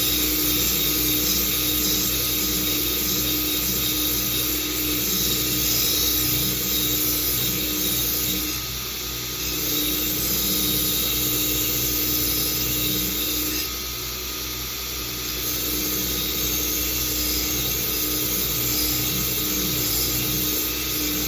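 Belt grinder running at about 5,000 to 6,000 RPM while stripping grit from a steel rasp file, a loud steady high-pitched whine with a dense grinding hiss that dips briefly twice as the file is lifted, no talking.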